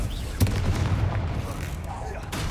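Confringo fire spell explosions in Hogwarts Legacy combat, sharp blasts amid a dense, noisy fight with a sudden hit near the start and a steady rumbling din afterward.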